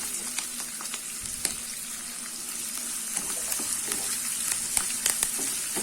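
Cut beans and carrot sautéing in a pan with curry leaves for aval vegetable upma, a constant close sizzle broken by scattered crackles and pops, with brief stirring scrapes and no talk.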